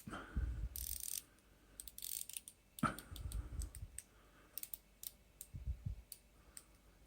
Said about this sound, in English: The bezel has got really nice smooth action to it